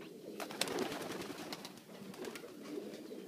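Pigeons in a loft of breeders and hens coo softly and steadily, a low murmuring chorus with scattered wing flutters and brief chirps nearby.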